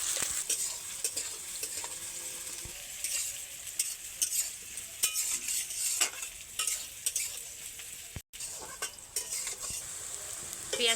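Chopped onion frying in oil until light brown for a Bangladeshi egg curry, a steady close sizzle with intermittent scraping stirs and utensil clinks, one brief dropout near the end, no talking.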